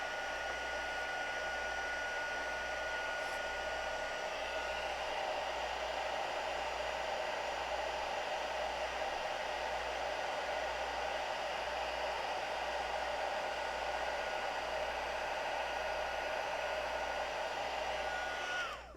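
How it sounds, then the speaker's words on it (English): Heat gun blows steadily while heat embossing a Christmas card, a constant close whooshing roar with a low electrical hum that holds for the whole stretch before cutting off at the end. "I freaking love heat embossing"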